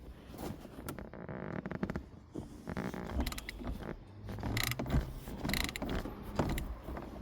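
A worn half-inch hand ratchet works a bolt loose on a first-generation Neon SRT-4, giving rapid mechanical clicks and creaks in irregular bursts up close, with no talking.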